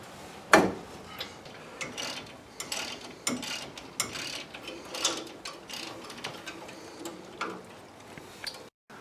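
A ratchet turns caliper bolts on a Dakota during front suspension work, producing a long run of close, rapid, uneven clicking with a sharp metallic knock near the start.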